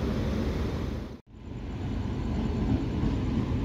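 A Mahima Gosain Express locomotive on the Sambalpur to Balasore line reverses with a steady low rumble and broad hiss that briefly drops out near the middle and then returns, a continuous nearby drone with no talk.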